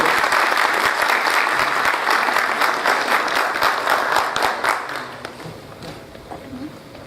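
An audience at an official Brazilian heraldry and humanities ceremony gives sustained applause, a thick wash of many hands clapping that stays full for several seconds and then thins and fades toward the end.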